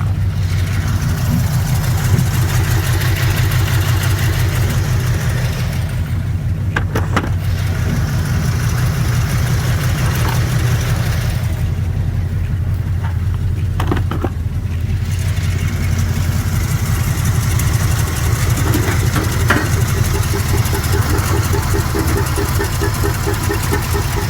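An old 1972 Chevy K20 truck engine runs steadily at a rough idle close by, a deep low rumble throughout with a few brief pops and irregular knocks as it backfires a little.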